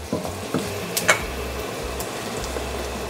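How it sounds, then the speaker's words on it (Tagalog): Onion and ginger sauté in a pan with a soft, steady sizzle, broken by a few quick stirring scrapes and clicks close by. "Saute your onion and ginger very good."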